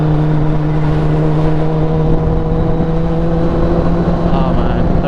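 Kawasaki motorcycle engine running in fourth gear at around 5,000 RPM, a loud, steady drone with a constant pitch that stays close and even throughout.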